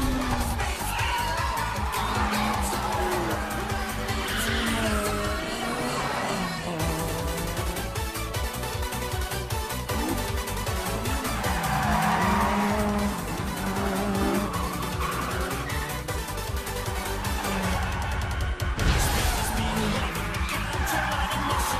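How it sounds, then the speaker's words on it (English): A tuned Toyota AE86 screams at high revs in a mountain race, its engine note rising and falling as tires squeal repeatedly through corners, loud and continuous with faint voices in places. "Some unbelievable high rev on that engine."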